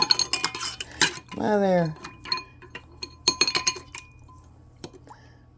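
Glass canning jars and metal lids clink and scrape nearby in irregular sharp knocks and rattles, with a brief scraping slide and a few words of speech in between.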